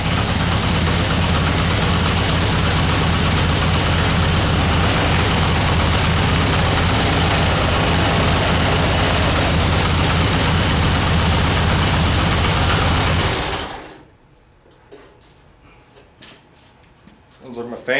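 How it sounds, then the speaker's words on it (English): Generator engine running with a loud, steady rattling drone for about thirteen seconds, then cutting out abruptly, leaving quiet background with faint scattered knocks. "That generator's rattling."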